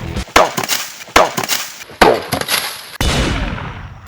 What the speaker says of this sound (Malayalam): 2 ഓട് ഞാൻ ഇനി പൊട്ടിക്കണം.